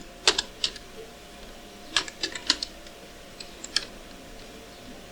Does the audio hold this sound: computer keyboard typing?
yes